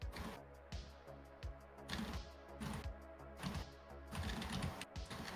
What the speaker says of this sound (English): My 3D printer is having a heart attack.